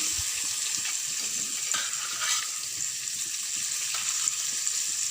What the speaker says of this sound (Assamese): এতিয়া পিঁয়াজ দিলোঁ।